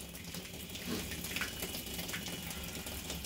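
A steady stream of water pours and drains continuously from a water bag, a constant rushing hiss with no voices.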